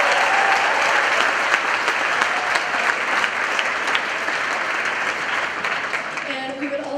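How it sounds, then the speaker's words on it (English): Sustained audience applause at an a cappella night concert, a dense wash of clapping from a large crowd that holds steady for the whole stretch before thinning slightly at the end, with no talk over it. "So let's give them a big round of applause."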